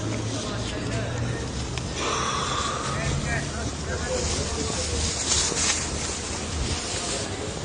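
Strong wind buffets and rumbles across the microphone outdoors at a market, a steady low roar under several people talking nearby.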